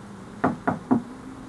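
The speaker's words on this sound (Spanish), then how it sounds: "Escuchamos muy ligeramente cómo tocaron la ventanilla de afuera, como si un empleado nos hablara para registrar la entrada." Three sharp knocks on a vehicle's small side window, evenly spaced and close, rapping quickly one after another against a quiet background.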